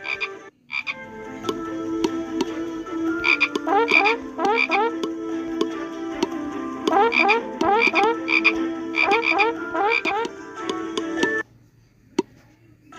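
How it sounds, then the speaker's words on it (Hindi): A chorus of frogs croaks in rapid rhythmic bursts over a steady trilling background, clear and fairly close, with no talking. "तब उसने मिस्रियों के घरों को मेंढकों से भर दिया, हर तरफ मेंढक थे"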